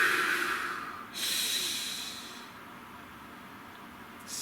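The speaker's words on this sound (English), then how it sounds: "Nice deep breath." A slow, deep breath drawn in and let out near the listener, a broad airy hiss swelling and fading over a few seconds, alone with no talking.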